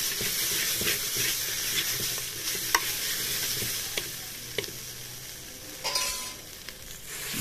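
Masala and lentils are sautéed for mutton chest bone soup, a steady close sizzle and hiss of frying with occasional scraping stirs and clicks of the utensil against the pan.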